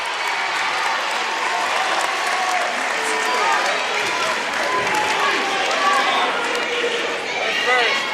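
Crowd noise at a girls' high school playoff basketball game in overtime, Canton versus Westwood: a steady roar of cheering and applause from the stands, loud and continuous throughout, with voices and shouts mixed in.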